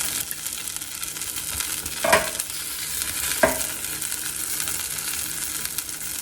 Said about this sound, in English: You can still hear it sizzling